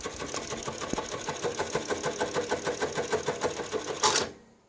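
JACK JK-T1900 electronic tacker sewing machine stitching a test pattern at 900 RPM: a fast, steady mechanical chatter of needle strokes that runs evenly and then stops abruptly near the end.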